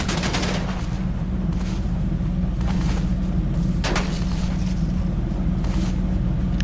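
Gunfire in a shooting video game comes as rapid bursts of shots and sharp cracks over a constant low engine-like rumble, several clustered volleys spaced across the stretch, with no talking.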